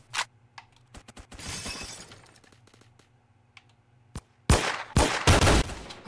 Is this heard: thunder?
no